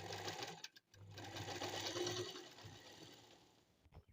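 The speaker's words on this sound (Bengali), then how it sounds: "এখন আমি সেলাই করব, সেলাইটা দেখে নাও।" A sewing machine stitches a seam on ladies' pants, a close rapid mechanical whir that runs briefly, stops for a moment, then resumes and fades toward the end.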